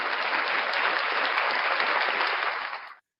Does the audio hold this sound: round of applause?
yes